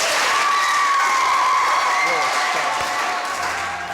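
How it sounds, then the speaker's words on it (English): A crowd applauds loudly and steadily, the clapping slowly fading, with voices talking underneath. "A round of applause, guys."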